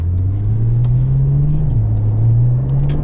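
Porsche Turbo S Cabriolet engine holding a loud, steady drone with a rising pitch under hard acceleration, heard up close without talk.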